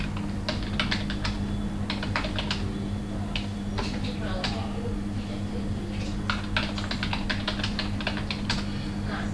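Typing on a computer keyboard while entering text in MS Word, clusters of quick close key clicks with short pauses over a steady low hum.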